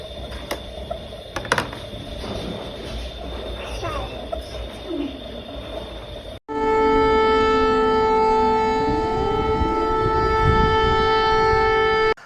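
A steady wailing air raid siren during an air raid alert in Ukraine sounds loud and continuous, holding pitch with harmonic tones, after a stretch of quieter background noise and faint voices.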